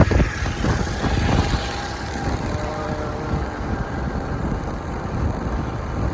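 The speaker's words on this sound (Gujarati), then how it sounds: "પવન લાગે પવન." Steady wind buffeting a microphone in Junagadh, a low rumbling roar with gusts throughout, no voices standing out.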